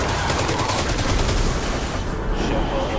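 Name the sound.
Telesto gunshots in Destiny 2 video game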